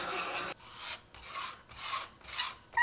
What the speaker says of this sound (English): You take this, which is a heavy glass weight essentially, and you do like an 8 motion. It makes a horrible sound.